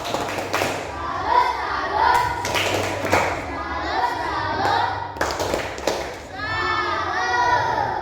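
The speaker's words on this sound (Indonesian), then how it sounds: "Oke, tepuk salut." Children in a classroom perform a rhythmic clapping salute, a run of sharp hand claps and thumps in quick sequence, with children's voices and chatter mixed in throughout.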